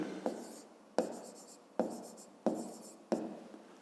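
A pen writes out a fifth-grade math solution in five quick, evenly spaced scratchy strokes, each starting with a sharp tap and fading, close and quiet with no speech.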